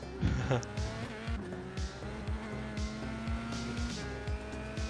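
Race car downshifting hard into corners, engine revs stabbing up and down in a steady series of quick blips with harmonic whine, close and loud, a faint tire squeal near the start.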